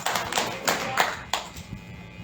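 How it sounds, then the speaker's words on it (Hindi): A church congregation claps along during a Hindi sermon. A few distinct, loud hand claps ring out at uneven intervals, with quieter clapping between them. "ताली बजाएंगे"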